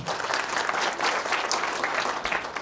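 Audience at a founding ceremony for the Korean two-wheeled vehicle management association clapping steadily, a dense patter of many hands at moderate volume with no voice over it.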